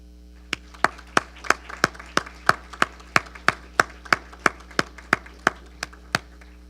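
At an award ceremony, a single pair of hands claps about sixteen times in a slow, even rhythm, each clap sharp and distinct over a faint steady hum.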